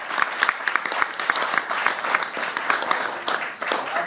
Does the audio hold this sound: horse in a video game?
no